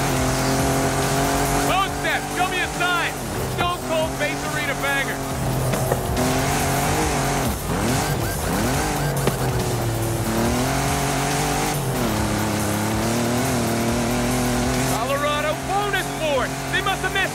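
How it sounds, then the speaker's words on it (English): A Camaro Super Sport's tires squeal repeatedly in a racing video game, screeching bursts over a steady loud engine roar that persists throughout, with a voice talking over it. "And there's Jensen back in the Camaro Super Sport."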